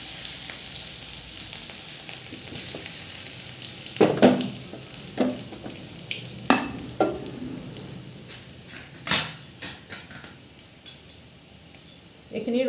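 Crushed garlic frying in hot oil for an Assamese thali dish, a steady sizzle running throughout with a few sharper clinks and stirring knocks of utensils against the pan.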